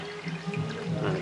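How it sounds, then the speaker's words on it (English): Water flows and splashes through an indoor aquaponics grow bed filled with clay pebbles and perlite, a steady close gurgling stream with no voices over it. "it's starting to flow through this one here"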